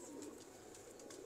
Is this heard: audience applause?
no